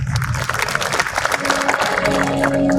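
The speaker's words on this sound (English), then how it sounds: "Ladies and gentlemen, a huge round of applause." An audience at an indoor awards ceremony at a convention centre applauds a dignitary being welcomed onto the stage. Dense clapping holds steady for the whole short stretch, and a tone or hum sits underneath it.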